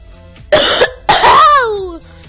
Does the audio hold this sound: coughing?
yes